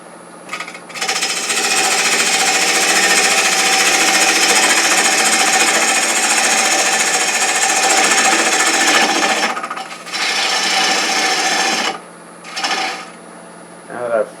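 A wooden jewelry box spinning on a wood lathe as a tool flattens its bottom, giving a loud, steady, continuous cutting roar that breaks off briefly near the end in a few short bursts.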